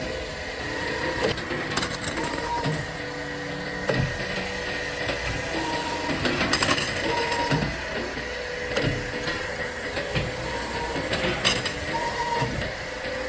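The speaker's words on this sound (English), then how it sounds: "our standard fully automatic burr-free straightening and cutting machine" A fully automatic burr-free tube straightening and cutting machine, model SDC4, fitted with three sets of tooling for different pipes, runs with a steady mechanical whir. Repeated clanks and cutting thumps break in every second or two.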